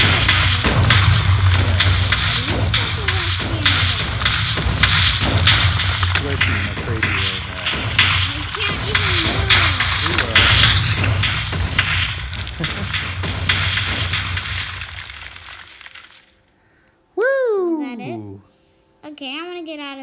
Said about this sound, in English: We're in the middle of the explosion.